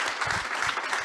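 Applause from a small gathering at a talk, brisk overlapping clapping that stays steady and fairly close for about a second.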